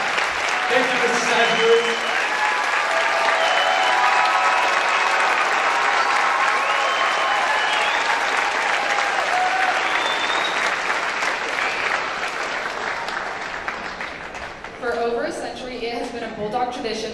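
At a school moving-up assembly, a large audience applauds a retiree at length, a dense, even wash of clapping that slowly tapers, with voices emerging near the end.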